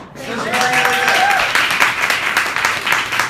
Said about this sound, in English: Let's give another round of applause to you over here.